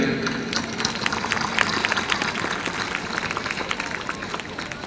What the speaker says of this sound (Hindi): बच्चों के लिए एक तालियां